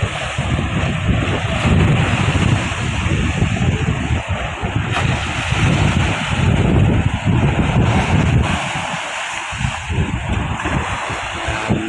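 Strong southwest monsoon wind buffets the microphone continuously while waves surge and crash close by on Manila Bay, loud and unbroken with no voices.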